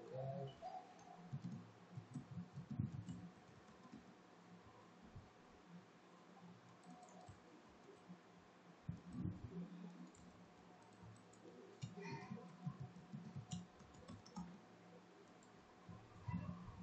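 Typing on a computer keyboard while setting up a website: soft, irregular clicks and taps, faint and close, in short bursts scattered across a quiet room.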